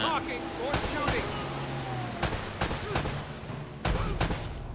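Sharp gunshots from a PS4 video game ring out one at a time at irregular intervals over a low engine-like drone, with a voice talking in between.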